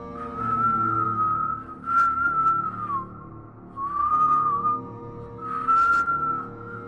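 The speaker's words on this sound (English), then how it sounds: "That night, the whistle came back, and I swear it was louder." A long, wavering whistle drifts in several drawn-out phrases, eerie and tonal, with brief pauses between, loud and close.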